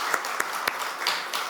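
Church congregation clapping during a Sunday worship service after two members stand to greet everyone, a steady mid-level patter of hands with a few sharper claps poking through, fairly brief.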